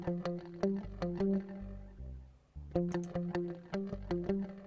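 Reverb-soaked electric guitar chords, played through pedals and spring reverb, ring out in a repeating syncopated pattern, with long washy tails and a brief lull before the riff returns.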